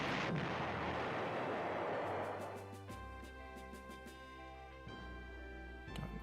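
A heavy explosive boom as a cruiser shells anti-aircraft guns in the PlayStation game Panzer General, a loud rumbling blast that fades into a ringing metallic tail and sustained tones.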